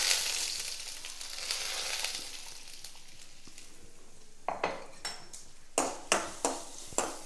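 Fenugreek seeds, dried red chilies and rasam powder sautéing in a pan for pepper rasam. A soft frying sizzle fades after a few seconds, followed by a series of sharp metallic taps and scrapes of a spoon against the pan.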